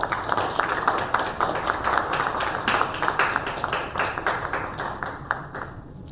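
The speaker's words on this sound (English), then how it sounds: "Congratulate them with a round of applause." Audience clapping at an MoU signing ceremony and press meet between FMC India and Pernat Industrie of France, a steady round of applause from a gathered crowd that thins and fades toward the end.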